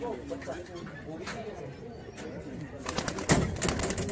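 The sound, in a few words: pigeons cooing in a pigeon collection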